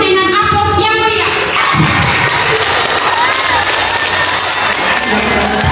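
Audience at an open-mic event marking World Food Day breaks into loud, sustained applause and cheering, a dense crowd roar with shouts, after a brief voice at the start.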